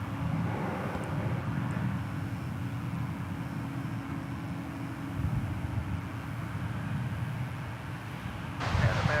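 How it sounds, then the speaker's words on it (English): Airbus A220 airliner at DFW Airport, a steady broad jet engine roar heard from a distance, sustained and fairly even throughout, with no talk. "And Airbus A220."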